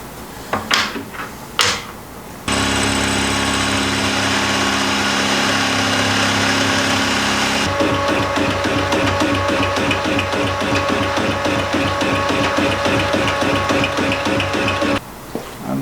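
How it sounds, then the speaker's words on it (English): A milling machine squares up a metal gusset piece for a belt sander repair, starting with a few sharp clunks before a steady loud motor hum with a rhythmic cutting chatter in its second half, then stopping near the end. "So let's throw this in the mill and square it a little bit."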